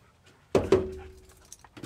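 A puppy inside a Jeep gives two sharp, close whimpers, the second trailing off into a thin whine, with small rustles before a faint final yelp.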